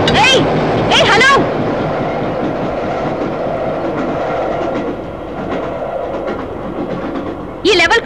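Train passing a level crossing, a loud steady rumble with clickety-clack wheel rhythm throughout, broken by sharp squealing tones at the start and end.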